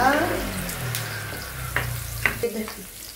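Garlic sizzling in a hot pan for a creamy bangus belly with pork liempo dish, a soft steady frying hiss with a few stirring clinks, heard alone at low volume.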